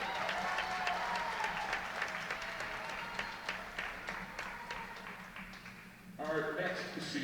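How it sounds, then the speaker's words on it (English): A volleyball crowd applauds during a senior ceremony, steady clapping from the audience in a gym that fades slightly and then swells again near the end, with an announcer speaking over it. "Ladies and gentlemen, one more round of applause for McKenna Hall."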